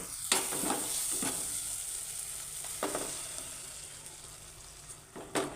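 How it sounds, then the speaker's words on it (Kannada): Steady frying sizzle with a few sharp scraping strokes of a spoon stirring thick masala in a pan as ground coconut is added; no talking. "ಈ ಟೈಮ್ನಲ್ಲಿ ರುಬ್ಬಿಟ್ಟಂತ ಕೊಬ್ಬರಿ ಸೇರಿಸ್ತಾ ಇದ್ದೀನಿ"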